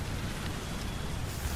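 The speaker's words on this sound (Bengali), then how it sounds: "ঝমঝম শব্দ তুলে নেমে এলো মুষলধারে বৃষ্টি।" Heavy torrential rain falls in a Bangla ghost cartoon on a stormy night, a faint, steady, even hiss of downpour that runs unbroken throughout with no other sounds.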